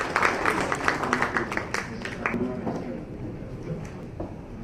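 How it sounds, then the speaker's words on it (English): A workshop audience applauds a speaker with a burst of scattered hand clapping that thins out and fades over a few seconds, with some voices underneath. "A big round of applause for him"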